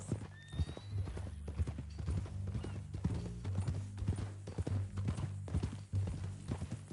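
Horse hooves clip-clop at a steady walking pace in Red Dead Redemption 2, with a low background drone and a brief whinny-like squeal early on.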